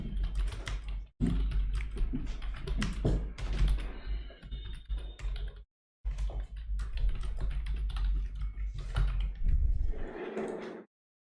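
Steady typing on a computer keyboard while writing JavaScript code, with dense, continuous key clatter across the clip, a brief pause midway and close, clear keystrokes.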